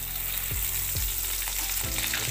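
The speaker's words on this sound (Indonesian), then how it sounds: "Sekarang kita masukkan ikan teri medannya." Medan anchovies frying in hot oil in a wok over medium heat, a steady loud sizzle with a few scraping stirs from a spatula, close and without talk.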